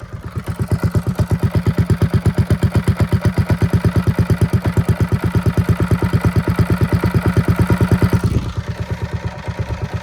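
Motorcycle engine with its muffler fitted, idling low and steady in a deep, even loping rhythm, loud and close, throttle dipping slightly near the end; no talking.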